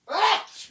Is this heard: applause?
no